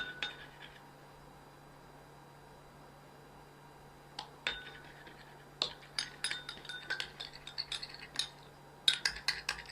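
A spoon mixes aloe vera cream in a bowl, giving sparse, light clinks and taps that grow busier toward the end over quiet room tone.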